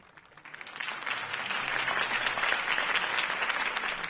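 A crowd applauds a Harvey Dent campaign speech in the Batman Telltale game, the clapping swelling quickly from a hush into a full, even roar of many hands that holds steady at a moderate distance.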